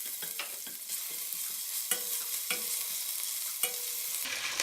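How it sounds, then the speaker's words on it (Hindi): Ginger and garlic sizzle in hot oil in a pan, a steady crackling hiss broken by repeated sharp scrapes and clinks of a spoon stirring, close and fairly quiet with no talking. "फिर इस तेल में अदरक लहसुन डाल लें।"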